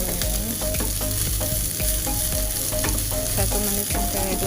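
Tempeh filling for martabak fries and sizzles steadily in a pan, a dense continuous crackle with occasional scraping stirs throughout, close and fairly loud with no talking.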